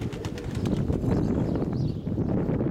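Pigeons coo in a low, steady murmur close by, with soft wingbeats and shuffling mixed in, against continuous background noise throughout.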